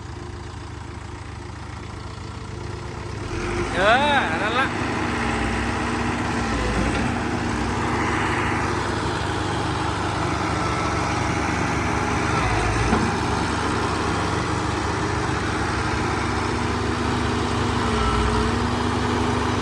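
A Kobelco SK120-5 excavator engine drones steadily at a near, fairly loud level, rising slightly as it is revved, with a brief voice cutting in early.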